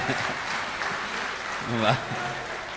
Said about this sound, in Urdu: تالیاں بجا کر ان کا استقبال